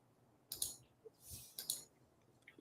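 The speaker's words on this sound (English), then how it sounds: "Keyboard's like mine too. I just smash it." Typing on a computer keyboard, a few quiet clusters of clicks and key taps in short bursts, close and faint with no talk.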